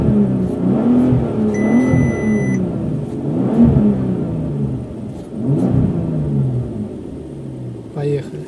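A 2006 Bentley Continental GT with a 6.0-litre, 560 hp W12 engine revs in three rising and falling surges over a deep bass rumble, close and loud, with a voice talking over it.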